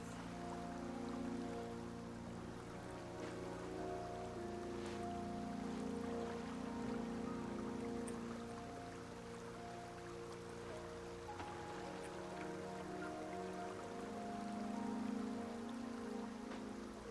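A waterfall in a video game rushes steadily at moderate distance, a continuous hiss of falling water with a low background music drone and no speech.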